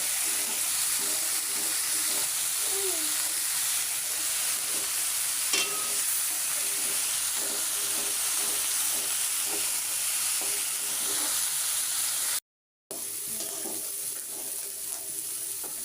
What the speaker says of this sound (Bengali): আমার সবগুলো এখন একসাথে কষিয়ে নিব